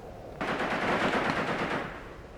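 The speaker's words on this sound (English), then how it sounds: "Maybe enemy machine gun team?" Machine gun fire from the video game Tank Warfare: Tunisia 1943: a sudden, dense burst of rapid automatic fire that rattles continuously for about two seconds before easing off, heard alone.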